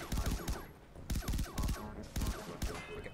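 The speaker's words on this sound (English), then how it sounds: "Look at burst fire." Burst-fire gunshots in the video game Far Cry Blood Dragon: repeated short volleys of rapid shots at an even pace, moderately loud, with quieter pauses between the bursts.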